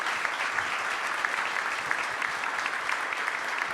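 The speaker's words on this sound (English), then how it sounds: "Can you all join me in applauding our fantastic discussion here?" Audience applauding after a panel discussion at a conference, dense sustained clapping from a crowd, loud and even throughout the short burst.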